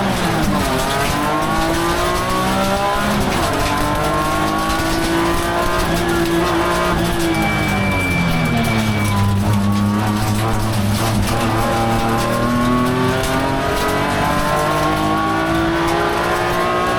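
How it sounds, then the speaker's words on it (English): V8 race cars, including a VF Commodore and an E92 BMW, roar around Bathurst's Mount Panorama, with a continuous loud engine drone that rises and falls through shifts and a brief tyre squeal. "Mark Hutton in his VL Walkinshaw, Tony Maloney in his brand new VF Commodore, and Jason House in his beautiful E92 BMW V8 are making up the top 10."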